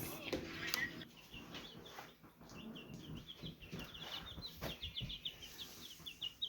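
Small flock of chickens clucking softly while they drink water and peck at their feed, short scattered calls close by over a low background murmur.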